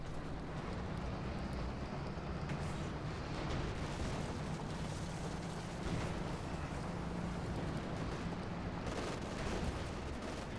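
A Panther tank firing in a Company of Heroes 2 1v1 match, heard as a dense, steady wash of battle noise with repeated cannon and gun reports and no clear talk.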